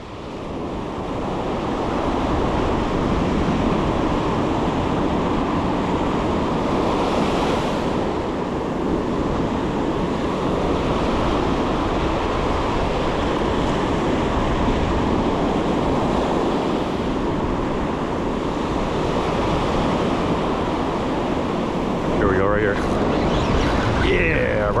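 Steady roar of saltwater surf breaking on a New Jersey beach during fishing, continuous and loud throughout with wind buffeting the microphone.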